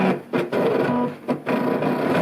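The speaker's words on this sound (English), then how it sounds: "It's like a printer, but instead of printing ink, it cuts things." An electronic cutting machine slicing paper snowflakes hums and whirs steadily up close, its motor sound broken by two brief pauses as the blade shifts.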